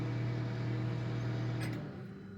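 A Toshiba microwave oven hums steadily with a low drone, then winds down and goes quiet near the end.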